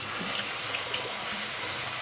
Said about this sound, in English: now I'm going to wash them under the water